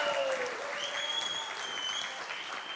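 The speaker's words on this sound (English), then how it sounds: "Can we have a round of applause?" A conference audience of about 150 at a resort in Nashik claps steadily for nearly three seconds. Faint feedback-like tones whistle over the crowd, with no voice rising clearly above the clapping.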